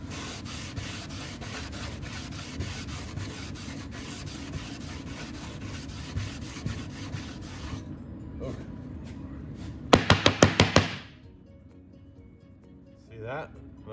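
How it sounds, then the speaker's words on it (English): Sandpaper rubs steadily over primed wood in a long continuous scratchy stretch, followed by a few sharp taps and then quiet, with a voice talking over the work. "New piece of sandpaper."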